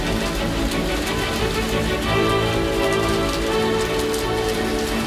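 Steady rain pours onto a street in Dalian, a dense, even patter of drops hitting the pavement and surfaces all around, continuous and fairly loud with no voices.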